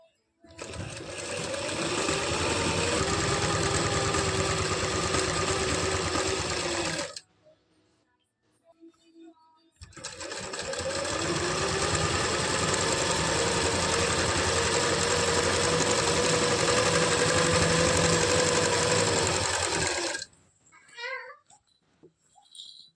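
A sewing machine stitching palazzo pants runs in two long steady bursts of rapid mechanical whirring and needle clatter, close and loud, separated by a short pause, ending with a few faint clicks and handling sounds.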